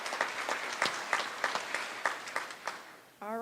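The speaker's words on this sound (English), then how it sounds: "Please give yourselves a round of applause." Graduates at a 2021 early college high school graduation ceremony applaud themselves with sparse, faint, steady claps ticking at an even pace before a voice resumes.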